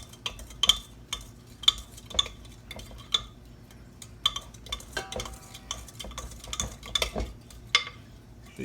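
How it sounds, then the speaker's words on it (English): Pineapple pound cake batter is folded by hand in a bowl, giving soft scraping and stirring sounds with irregular light clinks of a utensil against the bowl. The clinks repeat steadily and sound close, and no one speaks. "I'm gonna fold the rest by hand"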